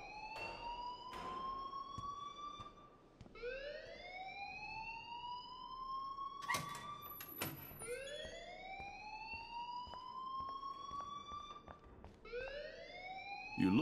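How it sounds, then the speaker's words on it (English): A rising and falling electronic fire alarm whoops repeatedly in a school setting in the Life is Strange video game, loud and steady, with a few sharp clicks in between and no talking. "please turn off that alarm since that's your job"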